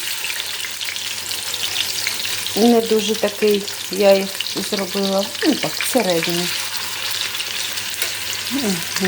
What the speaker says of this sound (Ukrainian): смажуться вже котлетки, хоч хоч би не підгоріли